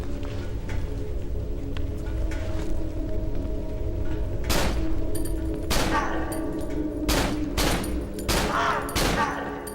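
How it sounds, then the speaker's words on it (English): Gunshots in the horror video game Cry of Fear, a handful of sharp separate shots spaced a second or so apart over a constant hissing rain-like background. "Two shots."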